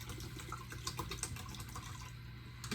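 Bottled water pours into a rice cooker pot in a kitchen, a soft continuous gurgling trickle close by with a few louder splashes, steady throughout and no voices.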